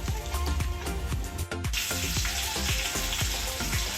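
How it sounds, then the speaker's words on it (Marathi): Mustard seeds, cumin and a pinch of asafoetida crackle in hot oil for a tempering, a loud, busy sizzle with sharp popping seeds throughout and a brief dip midway. "ही फोडणी तयार"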